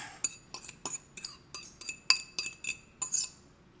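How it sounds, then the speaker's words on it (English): A spoon beats peanut butter in a bowl before it goes into a sugar and butter mixture for cookies, making about a dozen quick, close clinks and scrapes in a steady rhythm, with no voices. "And it just stirs in a little easier if you beat it up a little first."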